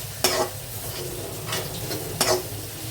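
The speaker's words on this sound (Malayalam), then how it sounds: "അര ടീസ്പൂൺ ഗരം മസാല ഇട്ട് കൊടുക്കാം. അത് നമുക്ക് ഒന്ന് ഇളക്കി കൊടുക്കാം." A spoon stirs garam masala into clam meat frying in a pan, giving a few distinct scraping strokes over a soft, steady sizzle, close and fairly quiet.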